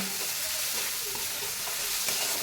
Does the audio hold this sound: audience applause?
no